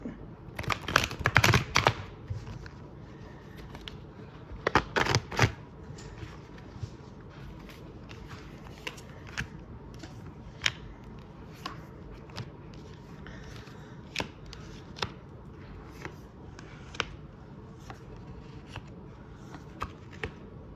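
Tarot cards are shuffled and drawn from a deck, with two bursts of riffling near the start followed by soft, scattered taps and slides of cards being laid down in a quiet room.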